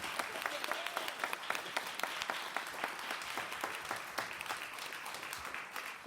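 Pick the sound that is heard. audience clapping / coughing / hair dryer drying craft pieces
audience clapping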